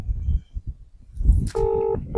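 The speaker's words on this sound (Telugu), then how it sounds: "ఫోన్ రింగ్ అవుతుంది" A phone ringing tone sounds down the line in two steady electronic bursts, following some low handling and rustling noise.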